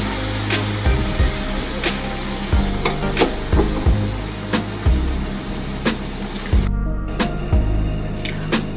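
Half and half poured into a hot pan for a cheese sauce for seafood mac and cheese, producing a loud, steady sizzle with rhythmic scraping stir strokes about every half second, close by and without talk.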